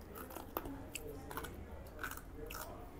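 Close, quiet crunching as someone chews crisp sarvapindi, a rice flatbread, with irregular bites and a soft mouthy background.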